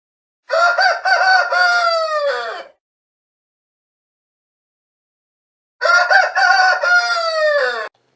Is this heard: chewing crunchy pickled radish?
no